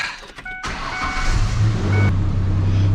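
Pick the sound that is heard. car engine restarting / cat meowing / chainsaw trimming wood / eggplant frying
car engine restarting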